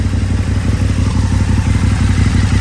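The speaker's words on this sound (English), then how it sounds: "Listen into the music of that new exhaust." A KTM 1290 motorcycle fitted with a new aftermarket exhaust idles while warming up, a loud, close, throbbing low rumble with a steady rapid pulse and slight mechanical clatter, running alone without voices.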